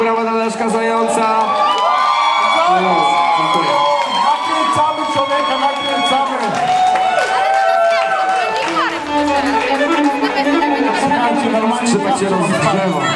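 An audience at a concert cheers, whoops and shouts loudly and without a break, many voices blending into a dense roar as someone talks over the noise.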